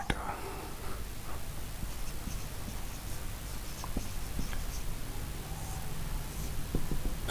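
A pen scratches out a matrix inverse proof on paper, soft continuous scribbling with small taps, close and quiet against a steady low background hum.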